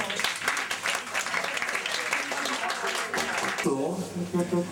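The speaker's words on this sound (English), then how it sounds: "Vous pouvez applaudir." An audience claps and cheers for a violinist after a blues performance at a Paris jazz club, with a presenter speaking over the applause in French.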